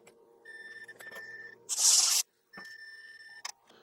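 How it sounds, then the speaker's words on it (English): Someone pops a key off a computer keyboard and blows air underneath it. Sharp clicks frame a loud, brief burst of blown air, heard over a steady electronic hum. "I'm just gonna pop that off, blow a little bit of air in there, and that should fix it right up."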